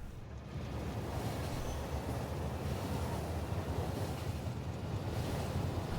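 A train in the video game Factorio rolls along steadily, a continuous low rumbling wash like wind or surf, even and moderately loud for the whole stretch, with no talk.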